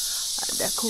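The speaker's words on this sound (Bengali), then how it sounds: "কি ঝিঝি ডাকছে" Crickets chirp in a forest near Netarhat, a steady high-pitched drone running throughout while a voice speaks briefly over it.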